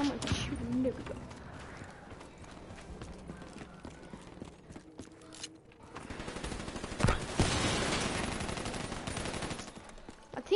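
Bursts of rapid gunfire from a multiplayer video game shootout crackle through a busy mix of game noise, growing louder and denser in the second half.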